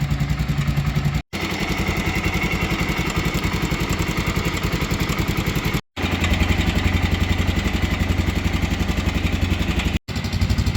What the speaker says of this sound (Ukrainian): Отак от просто такі мотоцикли і заводяться. Чи запускаються.